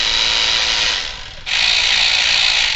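An AC Delco G12 electric ratchet, ungreased and a little loud, buzzes in two close, steady bursts separated by a brief dip.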